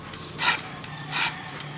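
A file rasping across the teeth of a handsaw to sharpen it, two long, loud strokes about three-quarters of a second apart, with faint scraping between them and no talk.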